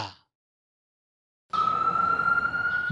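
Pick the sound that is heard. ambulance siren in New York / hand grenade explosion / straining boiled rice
ambulance siren in New York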